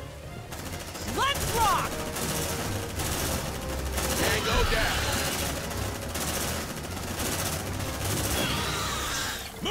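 Bursts of rapid automatic gunfire from marines in the game Aliens: Dark Descent lay down suppressive fire in sustained volleys, with a voice shouting over the shooting and creature shrieks in between.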